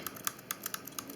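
Single computer key tapped rapidly and repeatedly while a PC boots with a BootMGR startup error, about eight sharp, fairly quiet clicks at uneven spacing with no talking.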